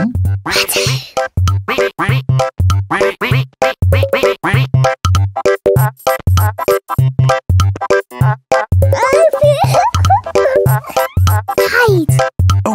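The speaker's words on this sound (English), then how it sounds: "do you hear someone quacking?" Rhythmic, regular cartoon duck quacking from the children's show Pocoyo repeats steadily over a looping musical backdrop, loud and close throughout.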